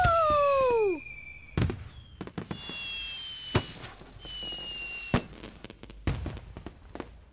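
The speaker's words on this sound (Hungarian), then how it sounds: "vége a tűzijátéknak?" Cartoon fireworks: whistling rockets rise and fall in pitch, followed by several sharp booming bursts spaced irregularly, loud and close with crackling tails between.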